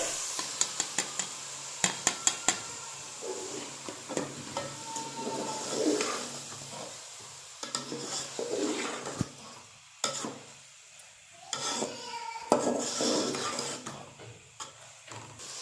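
Boiled mash dal lentils being tipped into a pot of cooked masala for a dhaba-style dish, with a string of clattering spoon taps followed by sizzling and repeated stirring and scraping against the pot, close and fairly loud.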